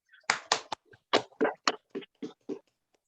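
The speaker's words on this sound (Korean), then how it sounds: "우리 박수로 모시도록 하겠습니다" A small audience at a Korean history lecture gives brief, sparse applause of about ten distinct claps spread over three seconds, fairly close and without voices.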